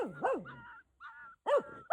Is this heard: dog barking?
yes